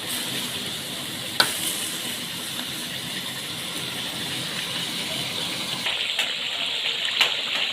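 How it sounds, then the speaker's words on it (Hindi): Ginger garlic paste sizzles steadily in hot oil in a pan while cooking chicken karahi, a constant close frying hiss with a few faint clinks of a utensil and no talking. "अदरक लहसुन का पेस्ट भी इसमें जब फ्राई होगा तो वो भी अच्छी तरीके से फ्राई हो जाएगा"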